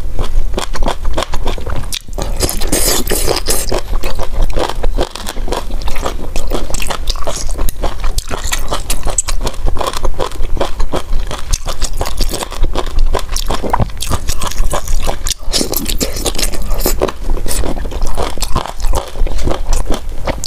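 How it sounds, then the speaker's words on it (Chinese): Close-up biting and chewing of extra-spicy chicken feet, with continuous crunchy, crackling bites and wet chewing sounds, loud and sustained with no talk. "吃来吃去还是永生客的鸡爪好吃。"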